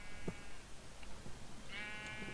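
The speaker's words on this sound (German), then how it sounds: "Hier ist ein rosa Schaf." A pink sheep bleats in Minecraft, a couple of short bleats heard at moderate distance with faint game ambience around them and no talking.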